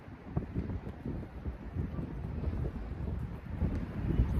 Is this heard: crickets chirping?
no